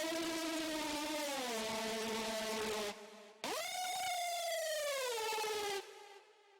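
Basic Screech preset from the Fragment Audio Doomsday pack for Serum: a harsh, bright, buzzing synth lead in two long sustained notes whose pitch slides, loud and alone, with a short gap between them.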